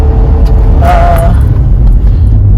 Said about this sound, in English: if you put it into manual mode here, it does produce a very nice sound because of the V6